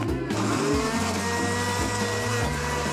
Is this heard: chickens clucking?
no